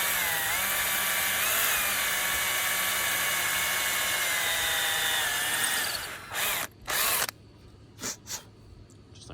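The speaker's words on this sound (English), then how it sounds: "I'm just going to use my drill and punch my hole." A power drill whines steadily for about six seconds while boring a hole through a kayak hull, then stops and gives several short bursts of spinning, with faint pauses between.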